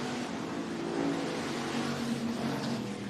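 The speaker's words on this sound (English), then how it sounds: "Halfway home in the final hobby stock heat race, and Drew Bartloff, he is your leader." Hobby stock race cars roar around a dirt speedway during a heat race at Boone Speedway in Iowa, a steady dense engine drone with slight swells as the pack passes, heard at a distance without talk.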